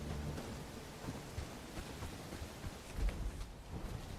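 A thunderstorm in the video game Bellwright: steady rain hisses beneath low rumbling thunder, with a heavier, deeper roll near the end, all fairly faint and continuous without voices.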